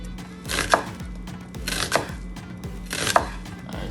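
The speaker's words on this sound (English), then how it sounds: "So here we have our onion, so we're gonna cut it down the middle, just like this." A knife chops through an onion on a cutting board in three firm, evenly spaced strokes, close and distinct over a low steady background hum.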